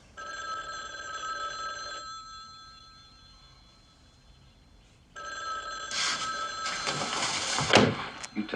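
A telephone bell rings in a 1970s crime drama scene, a steady ringing tone starting, pausing for a few seconds of near silence, then resuming louder with background clatter.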